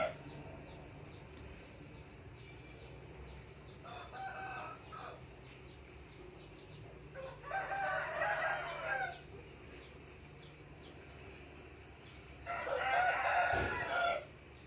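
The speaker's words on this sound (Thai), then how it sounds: "ถ้าว่ามีเสียงไก่เข้าไปค่ะ เพราะว่าที่บ้านมีเลี้ยงไก่ชนค่ะ" A fighting cock crows twice in the distance, long drawn-out calls separated by several seconds over a quiet outdoor background hum.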